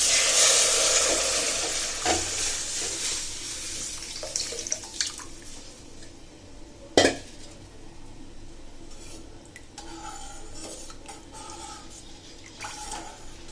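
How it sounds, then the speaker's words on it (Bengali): Strained tomato broth is poured into a pan of fried onion, garlic and green chili, giving a strong hissing sizzle at first that settles into quieter bubbling and occasional stirring clinks. "এবার টমেটো ছাকিয়ে নেওয়া ঝুলগুলো দিয়ে দিচ্ছি।"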